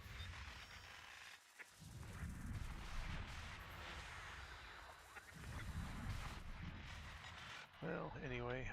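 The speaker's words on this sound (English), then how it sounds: "A lot of weapons fire here." Weapons fire in the space game Elite Dangerous, a dense continuous barrage of low booming shots and crackling bursts that fills the clip at steady loudness, with a brief lull near the start and a voice speaking over it at the end.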